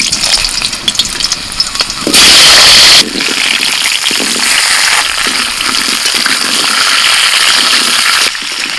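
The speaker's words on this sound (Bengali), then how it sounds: "তেল গরম হয়ে গেছে, এবার আলু ছেড়ে দিচ্ছি।" Potatoes drop into hot mustard oil in a wok, setting off a loud, bursting sizzle with a sharp louder surge early on, then a steady crackling fry that continues until near the end.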